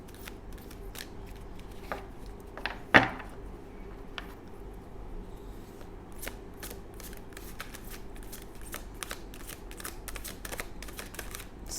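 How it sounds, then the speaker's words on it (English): A deck of tarot cards is shuffled by hand in repeated quick riffles and crisp snaps, close and clear, with one sharper slap early on and rapid clicking bursts later; no talking. "I shuffle till I get a flyer or I look at the bottom of the deck"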